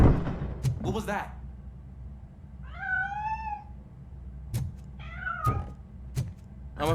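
A cat in the video game RoboCop Rogue City gives two drawn-out meows a couple of seconds apart, with sharp knocks and thuds between them and someone talking.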